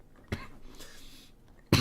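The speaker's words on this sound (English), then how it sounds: "We made it so long without coughing." A person coughs sharply twice, once early and once at the end, each burst short and close, with low murmuring in between.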